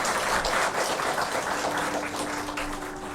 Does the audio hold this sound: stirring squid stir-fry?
no